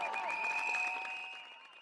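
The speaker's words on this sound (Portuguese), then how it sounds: "molim vas prvo na početku da jednim velikim aplauzom pozdravimo studente i njihovu današnju" Applause from a crowd at a Serbian protest greeting the students, a dense patter of clapping over a sustained tonal hum that gradually fades.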